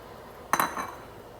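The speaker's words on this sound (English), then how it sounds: "Stir that up." Spoon stirring okra into simmering seafood gumbo in a hot pot, a single sharp metallic clink and scrape against the pot, brief and close, over faint background.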